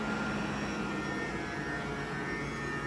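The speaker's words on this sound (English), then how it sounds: "So it's still pretty loud right now." The AC compressor of a 2021 Jeep Wrangler 4xe runs loud, a steady close-up mechanical whir and hum that holds constant for about three seconds with no talking.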